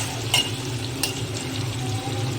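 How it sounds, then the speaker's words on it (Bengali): Sliced onion with a pinch of salt fries in a pan, giving a steady close sizzle with a couple of short clinks or scrapes from stirring. "এবারে আমি এটাকে ভালো করে একটু লাল লাল করে পেঁয়াজটাকে ভেজে নেবো।"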